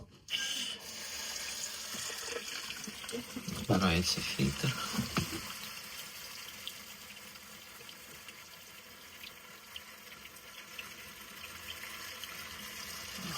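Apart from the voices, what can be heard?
water running through a flow-through water filter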